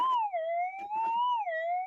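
Metal detector sounding off over a gold target in the ground: a loud, steady electronic tone that wavers slowly up and down in pitch for about two seconds, with no voices over it.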